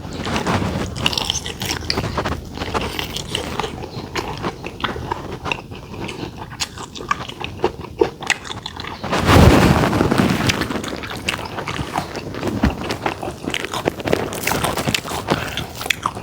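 Crunchy bites and chewing of crispy pork eaten with Thai som tam, close and loud, with repeated crackling crunches and a sharper burst of crunching midway, no talking.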